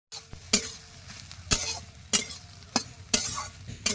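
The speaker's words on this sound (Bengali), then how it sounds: "এবার এর মধ্যে সয়াবিনগুলো দিয়ে দেবো।" Small cut soya chunks fry in a pan over a low background sizzle, broken by about six sharp, evenly spaced clacks and scrapes of a spoon against the pan as they are stirred, close by with no talking.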